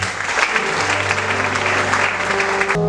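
A church congregation claps and cheers in a dense, steady burst of applause with a sustained musical tone underneath, loud and continuous, then cutting off abruptly near the end.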